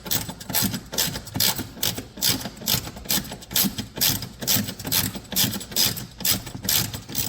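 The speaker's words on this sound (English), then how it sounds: "Again, I'm using a 10 millimeter ratchet." A 10 mm ratchet backs out bolts on a Corvette during coolant reserve tank removal, giving a steady run of quick rhythmic clicks in repeated bursts, close and fairly loud with no talking.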